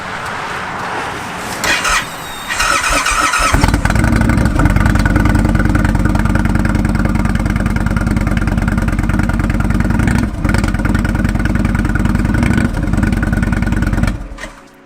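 A 2018 Indian Chieftain motorcycle with a Stage 1 exhaust rumbles loud and close while warming up in the cold, a deep steady throbbing idle after a brief start, holding for about ten seconds before cutting off.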